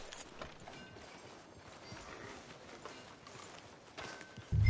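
A horse's hooves clip-clop in Red Dead Redemption 2, a quiet, fairly even walking rhythm on a town street, ending in a sudden louder thump.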